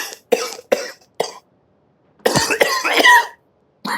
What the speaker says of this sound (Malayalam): എന്തോന്ന് കിടന്ന് ചുമക്കുന്നേ?